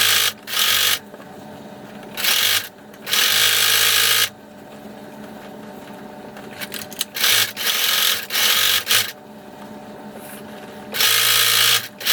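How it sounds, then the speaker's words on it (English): A sewing machine stitches across the top of stuffed pumpkin costume fabric, running in several short loud bursts of fast mechanical whirring separated by brief pauses, close up with no talk. "sew across the top"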